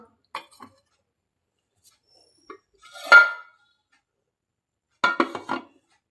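A cake tin for an eggless wheat flour sponge cake set into a pressure cooker, a few sharp metallic clinks and clatters heard close in quiet, with a louder cluster near the end.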